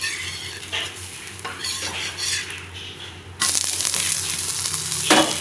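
A ragi dosa made with leftover rasam sizzles on a hot pan, scraped and stirred at first, then a sharp, louder steady frying hiss after it is flipped.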